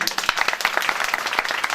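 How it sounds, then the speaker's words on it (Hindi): An audience claps for a local official at a Gayatri yagya gathering in Budeli, India, with brisk, fairly close clapping that rises and falls in uneven bursts for a couple of seconds. "सीओ साहब के लिए ताली बजाइए"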